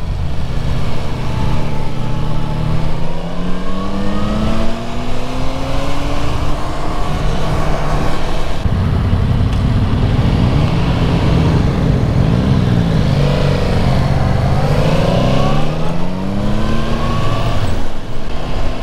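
Yamaha MT-10 SP naked motorcycle engine revving and accelerating during a ride, a loud continuous engine note rising and falling in pitch through gear changes, with steady wind roar throughout.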